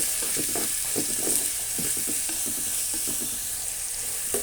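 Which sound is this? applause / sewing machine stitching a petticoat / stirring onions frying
stirring onions frying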